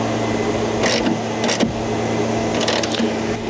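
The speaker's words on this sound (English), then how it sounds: "which means there's literally always a blower running, so I do apologize for that" A leaf blower drones steadily in the background through a fall day, a constant motor whine with a few brief louder swells.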